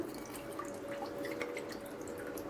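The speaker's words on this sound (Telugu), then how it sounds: "రాగి ఫ్లోర్ని మనం ఉండలేకుండా కొంచెం వాటర్ యాడ్ చేసుకుంటూ" Water trickles and drips into ragi flour as it is mixed for a ragi payasam, a soft continuous splashing with small drips throughout, with no talking.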